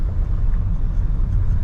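A racing car passes on a road in Macau, heard as a steady, loud low rumble with no clear approach or fade, no voices on top.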